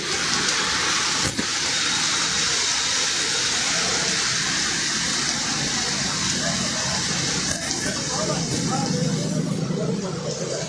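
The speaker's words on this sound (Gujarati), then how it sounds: "ફરી એક વખત વરસાદે આ ધમધમાટી બોલાવી છે" Heavy monsoon rain pours over low-lying streets in Vadodara as floodwater rushes, a dense, unbroken roar of falling and flowing water with a vehicle passing at moments.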